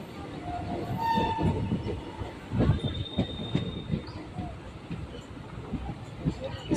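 A passenger train on the Kolkata to Guwahati route rumbles along loudly, with wheels clattering and squealing, a brief horn-like tone and pulsing rail knocks.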